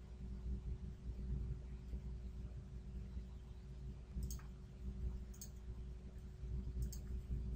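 Computer mouse clicks at a desk, a few sharp, sparse clicks spaced seconds apart over a low, steady electrical hum, close and quiet, with no talking.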